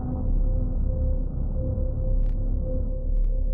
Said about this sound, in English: you can turn it into a really dark and atmospheric pad sound.